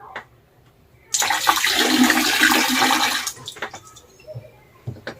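Water pours steadily for about two seconds during a magic trick performance, a loud continuous splashing rush that then gives way to quieter dripping and faint handling noises.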